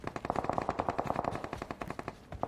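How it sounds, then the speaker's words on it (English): Rapid bursts of automatic gunfire in a video game, a quick steady volley of shots through the first half followed by sparser shots, loud and close with no talking. "so much shooting already"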